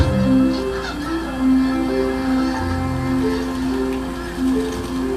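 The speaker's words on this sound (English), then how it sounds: "Thousands of migrating snow geese return to the Stikine each spring." Many migrating snow geese honk together in a loud, overlapping chorus on the Stikine River delta in Alaska, calls rising and falling continuously as if a large flock is close by.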